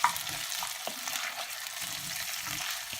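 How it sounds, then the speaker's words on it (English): Whole potatoes and onions frying in a pan for corned beef hash, with a steady broadband sizzle and occasional soft stirring knocks. "drop them into that pan, mix them into the onions"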